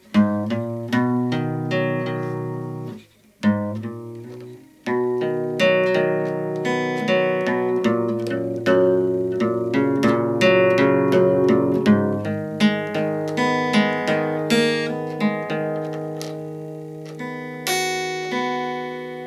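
A guitar plays a riff, plucked notes and ringing chords in a repeating pattern, with a couple of brief breaks and no talking.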